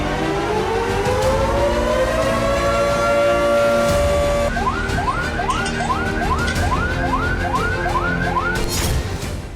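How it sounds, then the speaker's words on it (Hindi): Air raid warning siren in Ukraine wailing loudly, first a long rising and falling tone, then a rapid repeating whoop-like pattern, continuous and prominent throughout. "यूक्रेन के अलग अलग प्रांतों में खतरे का सायरन बजता रहा"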